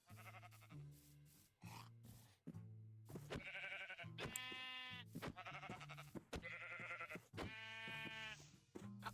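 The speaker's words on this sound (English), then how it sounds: "Right there's the last sheep." Sheep bleating in Minecraft, several repeated close bleats in a row, with a player's voice talking briefly over the game sounds.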